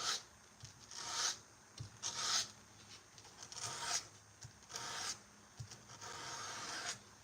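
A forged knife blade is hand sanded in steady back-and-forth rasping strokes, roughly a dozen close scrubbing passes with a gritty, even rhythm and no talk.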